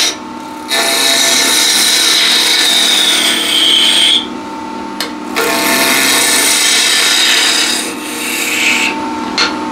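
A wood lathe takes a peeling cut on a spinning workpiece being turned into a dowel, producing loud, continuous rasping and scraping in long passes broken by brief pauses.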